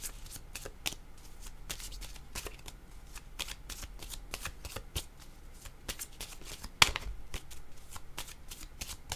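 Tarot cards shuffled by hand at close range, a steady run of quick papery riffles and soft slaps with one sharper snap partway through, no voices.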